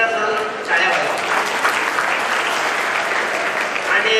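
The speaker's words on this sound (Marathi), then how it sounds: "त्याच्यासाठी एकदा सर्व टाळ्या वाजवा." An audience at a community awards and student felicitation ceremony in Solapur breaks into sustained clapping, dense and steady applause filling the hall from start to finish.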